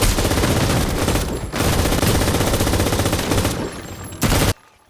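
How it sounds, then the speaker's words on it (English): Sustained machine gun fire in a combat firefight, loud, dense bursts of rapid shots running almost continuously, with brief gaps, before cutting off abruptly near the end. "But they walk right into a machine gunner who pins them down"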